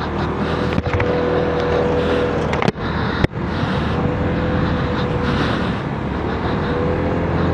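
A Hero Xoom 160 scooter being ridden on a road, a steady, loud engine drone with wind rush and a couple of sharp thumps from bumps along the way.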